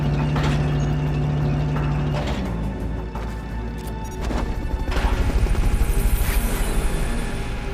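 Helicopter in Metal Gear Solid Peace Walker arriving for a Fulton recovery, a steady rotor drone with mechanical clanks and a crash-like burst partway through, growing louder toward the end, no talk.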